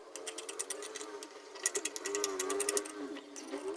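Scissors snip fabric at a kurti neckline in a quick series of short, crisp metallic cuts, close and distinct, bunching into a denser burst of clicks midway.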